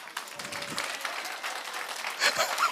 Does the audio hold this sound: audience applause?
yes